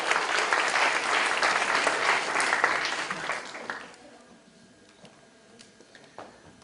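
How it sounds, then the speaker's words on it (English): An audience at an event claps loudly for about four seconds, then the applause fades into a quiet room with a few scattered claps and faint murmurs. "So, big applause,"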